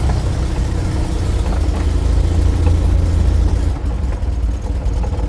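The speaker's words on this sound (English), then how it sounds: "So we go into drive, handbrake off, bit of throttle, and we'll just head over there for now" Perodua Kenari small car engine pulling away in drive with the handbrake released and a little throttle, a close, steady low engine drone that eases slightly toward the end, no talking.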